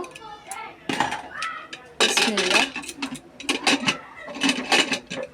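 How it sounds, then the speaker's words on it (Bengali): A metal pressure cooker lid is fitted over a pot of Eid goat-meat bhuna, with clanks and scraping of cookware mixed with nearby voices talking throughout. "আম্মু প্রেশার কুকারের ঢাকনাটা লাগিয়ে দিল"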